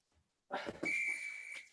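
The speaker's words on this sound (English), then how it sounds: "All the way to the whistle." A single short, sharp whistle blast marks the end of a HIIT yoga workout exercise, heard close and clear for about a second.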